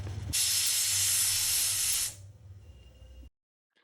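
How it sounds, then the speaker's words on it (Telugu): A pressure cooker cooking rice lets out a loud, steady hiss of escaping steam for about two seconds, then it cuts off, leaving faint background noise before silence. "ఇలా బియ్యాన్ని కుక్కర్లో పెట్టుకొని ఒక విజిల్ వచ్చేంత వరకు ఉడికించుకోవాలి"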